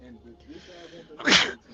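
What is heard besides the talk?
sneeze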